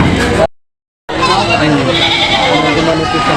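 Goats bleat at a livestock market amid a busy crowd of talking voices, loud and close, with a brief break in the sound partway through.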